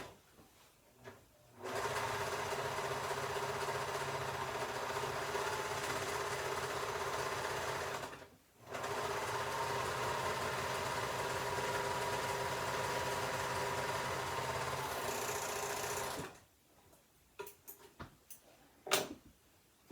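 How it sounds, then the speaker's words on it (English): A serger sewing machine finishes a pants seam, running in a steady close whirring hum for several seconds, pausing briefly, then running again before stopping with a few light clicks and handling sounds. "So now I'm gonna finish that seam, and then we'll press it. So I'm gonna do this on my serger."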